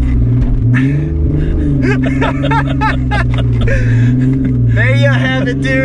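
Engine of an affordable Kia SUV revs under throttle while off-roading, a loud close drone that rises and falls in pitch, with someone talking over it.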